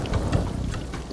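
Rain falling in Africa, a dense, steady wash of drops with low rumbling underneath, continuous and fairly close across the short stretch.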